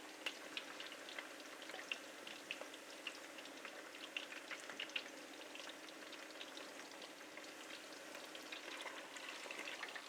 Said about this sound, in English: we just want to fry this a bit golden brown, ideally